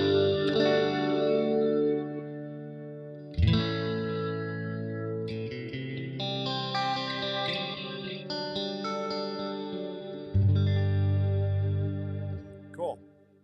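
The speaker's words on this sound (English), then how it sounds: "This guitar doesn't sound too bad either." An electric guitar runs through Quad Cortex effects, with chorus, echo and reverb. Sustained chords and melodic lines ring out, and each phrase blooms and decays, heard alone at moderate volume.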